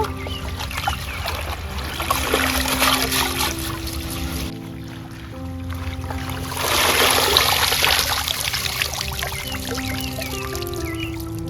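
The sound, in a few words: water trickling while washing spinach leaves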